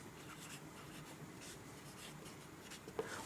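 A pen scratching on paper while a maths question is written out, soft continuous strokes close by with a small tap near the end.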